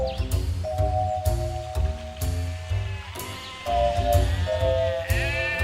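A goat bleats in drawn-out, wavering cries over a busy background of other sounds, the calls rising and falling across several seconds.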